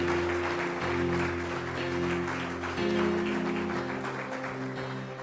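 A church congregation applauds in a steady, dense wash of clapping that swells and holds for several seconds over sustained tonal sounds in the room.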